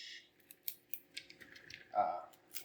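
Fresh broccoli is cut into florets in a kitchen with a series of crisp, snappy clicks and snips at an uneven pace, close and fairly quiet.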